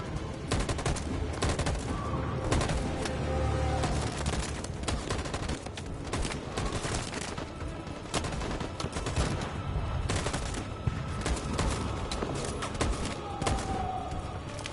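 Sustained volley of gunfire in Detroit: Become Human, dense overlapping shots crackling continuously for about fifteen seconds at steady loudness, with scattered voices faintly underneath.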